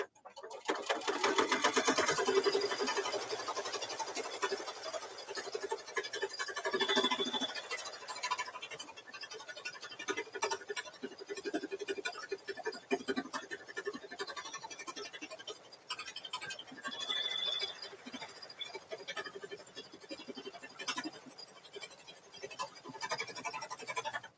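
An embroidery machine stitches a double zipper bag down in the hoop with a fast, continuous, buzzing needle rattle that holds steady at close range, while a voice speaks intermittently beneath it.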